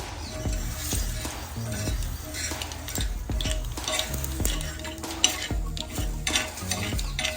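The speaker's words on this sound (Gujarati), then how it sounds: "રહી ફૂટવા દેવું" Mustard seeds popping in hot oil for a dhokla tempering: a dense sizzle crowded with sharp irregular pops and crackles, close and fairly loud, with occasional faint clinks of a utensil and no speech.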